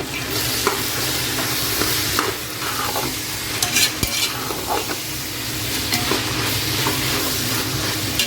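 Vegetables and peas for a vegetable biryani sizzle steadily in a hot pan while a utensil stirs and scrapes now and then, with no talking.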